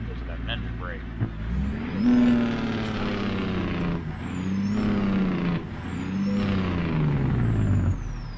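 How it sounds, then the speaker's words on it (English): Freightliner Argosy truck with a 14-liter Series 60 engine in American Truck Simulator, its engine brake producing a loud, rumbling staccato drone that falls in pitch, pauses, then repeats, with a gear whine above and a voice over the top. "There's that engine brake."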